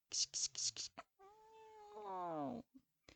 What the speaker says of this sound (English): Clawing and angry mews reach his ears.